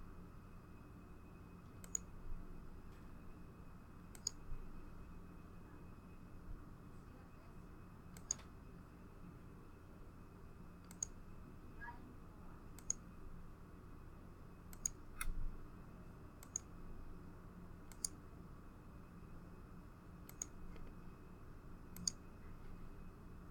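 Computer mouse clicks while lines are traced on screen: sharp, faint single clicks spaced a second or two apart over a low steady hum, with no talking.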